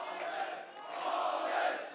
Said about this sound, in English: what do you make of this crowd? They love you, man.